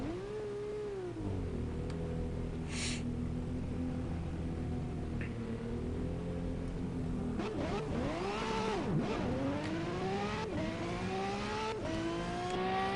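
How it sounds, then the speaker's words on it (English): Ferrari race car engine in the Assetto Corsa racing game, a steady loud drone that climbs and swoops through several sharp revving shifts in the second half, alone with no talk. "we're just going to leave the poor little Fiat in the dust with our super Ferrari car here"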